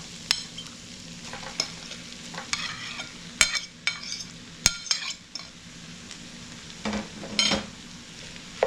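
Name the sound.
mixing mashed potato into softened vegetables in pan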